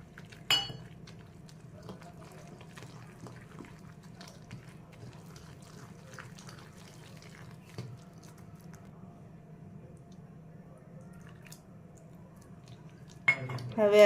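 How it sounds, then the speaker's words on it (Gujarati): Gram flour batter is stirred in a bowl as water is poured in a little at a time, making a quiet, steady squelching with occasional spoon clinks against the bowl and a short burst of voice near the end. "હવે આવી રીતે આપણે થોડુંક પાણી રેડતા જવાનું અને બેટર હલાવતા જવાનું."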